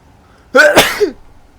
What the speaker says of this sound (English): Oh, I sneeze.